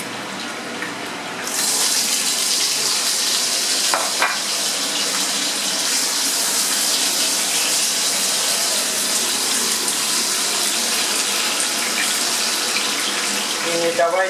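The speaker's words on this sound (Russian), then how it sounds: "Сейчас мы все это снимем и отправляем в это же масло лук" Onions drop into hot oil in a pan already used for frying a batch for mushroom and chicken julienne, and a sudden loud, broad sizzle starts and holds steady close by, with no speech over it.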